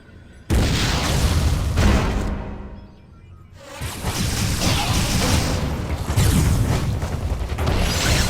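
In the Nintendo game Metroid Other M, a missile is fired with a loud whooshing launch and booming explosion, then a brief lull before another sustained blast and rumbling crash.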